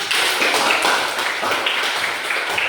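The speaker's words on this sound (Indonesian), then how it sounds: "Oke, tepuk tangan." Schoolchildren in a physical education class clap together, a brisk run of close, fairly loud claps in a loose, overlapping rhythm with no talking.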